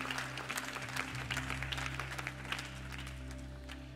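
A church congregation applauds during a French-language service, a steady patter of many hands clapping at moderate distance, with a low hum underneath throughout.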